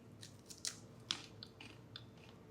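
Wrapper of a cheddar-flavored nut snack bar being torn open, a few sharp crinkly rips and rustles close by, quiet otherwise.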